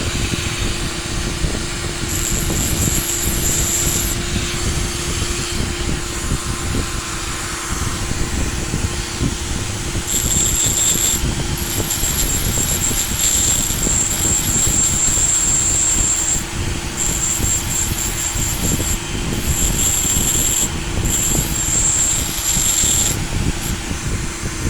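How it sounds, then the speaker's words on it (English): A Dremel fitted with a diamond wheel grinds glass wall tile at slow speed, a continuous rough grinding whine with a constant motor hum, close and loud, with bursts of higher scraping as the wheel bites. "See, that Dremel's on slow."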